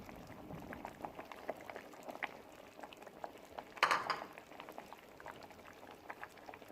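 Hot and sour chicken soup bubbling at a steady boil in a pot while beaten eggs are poured in, a continuous soft gurgle with a brief louder splash midway.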